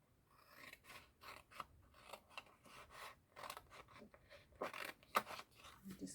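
Scissors trim paper for a handmade birthday card, fussy-cutting a stamped greeting: a run of quick, close snips and rasping cuts, fairly quiet, with no talking.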